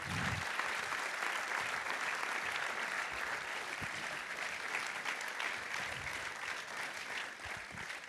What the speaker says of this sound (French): On peut applaudir Marc Madiot